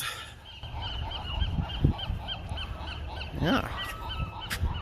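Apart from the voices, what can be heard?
seagulls calling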